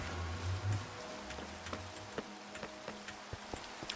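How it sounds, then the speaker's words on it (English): Rain falls in the game Minecraft as a soft, steady hiss scattered with sparse ticking drops, under a low hum that fades early on. No one talks. "Still raining though."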